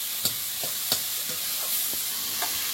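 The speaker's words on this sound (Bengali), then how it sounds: "গোটা জিরে একটু তেলের মধ্যে" Whole cumin seeds sizzle in hot oil in a pan, a continuous bright hiss with a few faint taps of a spoon scattered through it; no one talks.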